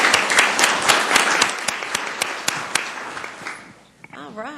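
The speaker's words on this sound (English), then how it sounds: "Let's give them another round of applause." A round of applause fills a city council meeting room in Columbus, Georgia, close and steady, tapering off before a voice begins speaking.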